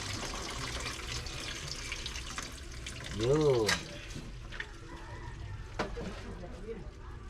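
Water drains off boiled bihon rice noodles in a kitchen, a soft continuous trickle and splash with a brief louder pour in the middle, while a person speaks over it.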